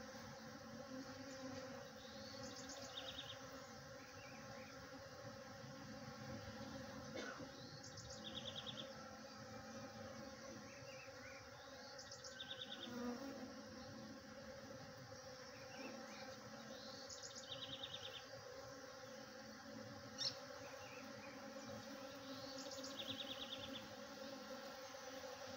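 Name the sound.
European honeybees and stingless bees buzzing on jabuticaba tree flowers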